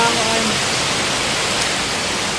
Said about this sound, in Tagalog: nag-ulan na sad